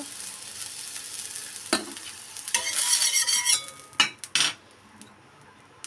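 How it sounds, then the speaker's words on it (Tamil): Water sprinkled onto a hot dosa griddle hisses in short bursts, a sharp crackling sizzle that flares and fades, alongside a few metallic scrapes of a utensil against the pan in a quiet kitchen. "தண்ணி விட்டு தெளித்தோடனே இந்த மாதிரி சவுண்டு கேட்கணும்"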